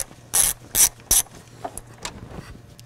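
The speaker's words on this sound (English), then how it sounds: "Now we're going to remove the two upper radiator bolts." A ratchet with a T25 Torx bit loosening the upper radiator bolts on a 2006-2013 BMW 335i/135i: three loud, close ratcheting bursts, then softer scattered clicks.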